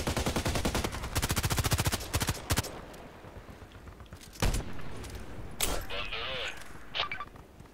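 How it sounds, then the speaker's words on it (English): Gunfire from an RPKT rifle in the Contract Wars shooter game: a rapid string of loud cracks early on, then a few separated single shots with quieter game noise between them. "Go on, single shot now"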